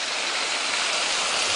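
A waterfall on a Jeep trail in the Ozark Mountains gives off a steady, dense roar of rushing water, close and continuous with no voices over it.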